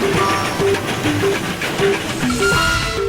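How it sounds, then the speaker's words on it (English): A Darjeeling Himalayan Railway narrow-gauge train on its two-foot track in the hills rumbles and hisses continuously and loudly, with scattered squealing tonal notes from wheels or rails over the steady roar. "The Darjeeling Himalayan Railway was the very first hill railway in India."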